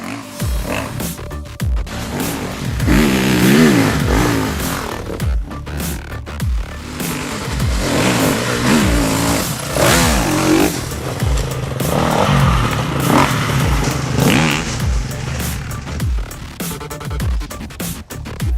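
A KTM EXC-F 350 Factory Edition dirt bike engine revs hard and repeatedly in a forest, climbing and dropping in pitch as it accelerates nearby, with occasional clatter over rough ground.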